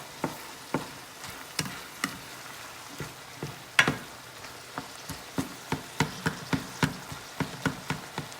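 Lasagna ingredients mixed in a pan on a stove: a spoon or spatula knocks and scrapes against the pan in a steady series of sharp taps over a soft sizzle.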